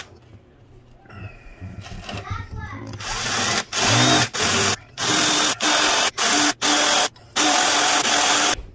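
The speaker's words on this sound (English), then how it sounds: "Now we're gonna drill it." A power drill with a 9/64 bit whirs loudly in repeated freehand bursts into an RC crawler link, starting and stopping several times, after some quieter handling noise and a voice at the beginning.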